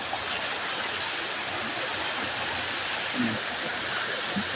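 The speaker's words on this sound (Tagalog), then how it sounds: "Grabe, lakas ng tubig, oh." A strong river current rushes loudly and steadily after heavy rain fell upstream in the valley, a dense, unbroken roar of water with faint voices barely audible underneath.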